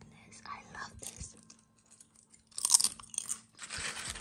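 Crunchy chewing of home-baked Christmas cookies, some of them burned, with loud crisp bites and crackling mastication in close bursts, separated by quieter pauses and soft breathy sounds.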